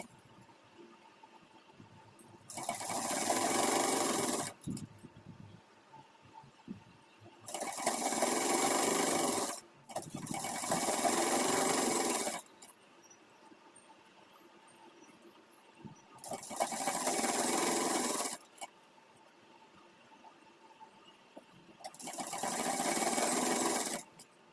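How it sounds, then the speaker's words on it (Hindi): Sewing machine stitching along the edges of an Afghani salwar, running in five steady bursts of a few seconds each, separated by short pauses, loud and close with no talking. "यहाँ पे किनारे किनारे सिलाई लगा लेना है इस तरह से"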